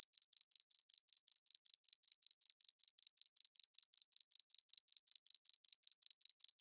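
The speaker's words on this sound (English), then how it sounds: "A more distinct example is the house cricket, which has the first four harmonics intact." A synthesized house cricket chirps in a fast, evenly spaced train of sharp high-pitched pulses, clear and alone against silence for the whole stretch.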